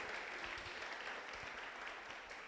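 A church congregation claps in praise to the Lord during a Spanish-language sermon, a steady, dense wash of hands that holds at an even level from start to finish without speech.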